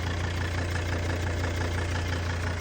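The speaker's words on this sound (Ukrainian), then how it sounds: "Послухайте, як працює мотор." A diesel Volvo XC90 engine idles steadily nearby, a continuous low rumble with a fine, even clatter and no change in pace.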